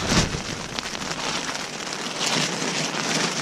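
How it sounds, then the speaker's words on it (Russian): Steady rain drumming on a roof, a dense continuous hiss of drops, fairly close, with no voices. "На улице дождь идет."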